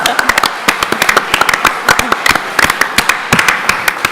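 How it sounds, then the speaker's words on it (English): An audience at a workforce development session claps for veterans, a dense burst of sharp hand claps from many people that carries on steadily throughout, with a voice briefly heard among them. "So let's give them a round of applause."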